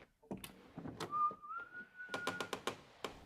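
A character in Crimson Desert whistles a wavering, sustained tune alone, surrounded by clattering footsteps and scattered thumps of someone poking around a house.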